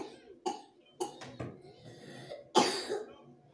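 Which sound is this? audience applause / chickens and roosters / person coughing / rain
person coughing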